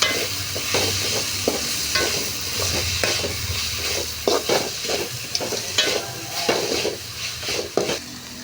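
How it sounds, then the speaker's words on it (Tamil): Onions and tomatoes sizzle and fry steadily in a pan for neem flower kuzhambu while a utensil scrapes and clinks against it in irregular stirring strokes, close by. "உப்பு போட்டு நல்லா கிண்டி விட்டுக்கலாம்"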